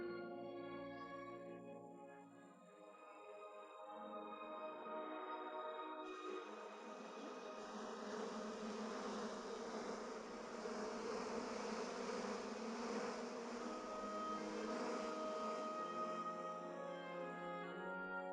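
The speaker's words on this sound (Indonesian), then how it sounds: "Banyak lebah ya." A swarm of bees hums in a dense, sustained buzz that swells louder after a few seconds and holds steady, rich in layered whining tones, with no talk.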